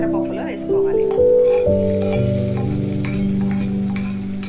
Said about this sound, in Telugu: ఇలా ఎర్రగా వేగిన పోపును తీసుకువెళ్ళి మనం ఉడికించుకున్న పెసరపప్పులో వేసుకోవాలి.